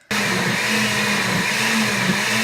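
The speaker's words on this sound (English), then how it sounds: "3 teaspoons of that, and we can blend her up." A blender switches on abruptly and whirs loudly and steadily, blending vegan pumpkin pie filling with pumpkin puree and pumpkin pie spice, its motor holding a constant buzzing pitch with no voices.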